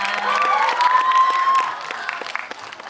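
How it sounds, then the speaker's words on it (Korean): A cinema audience at a stage greeting breaks into applause and cheering, a crowd of clapping hands with a high sustained shout over it, swelling and then thinning out. "네, 큰 박수 부탁드립니다."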